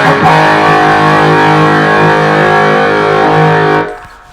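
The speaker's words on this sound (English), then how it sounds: "I actually like that distortion on the green channel." Electric guitar played through an EVH 5150 Iconic 40-watt combo amp on its green channel distortion: a single sustained, saturated chord rings loud and steady for nearly four seconds before cutting off abruptly.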